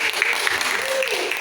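Brief burst of clapping from students in a classroom, short and moderately loud, mixed with a voice speaking over it.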